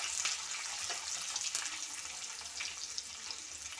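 Curry leaves and clams roasting in a pan for a Kerala-style clam roast, giving a soft, steady hiss with faint spatters throughout, fairly quiet and close.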